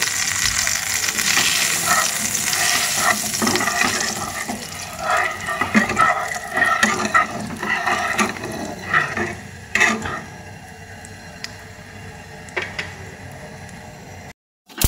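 Whole cumin, mustard seeds and dried chilli sizzle in hot oil for a semolina and potato breakfast dish: a busy, hissing crackle with scattered pops that runs loud and close for most of the stretch, then thins out near the end.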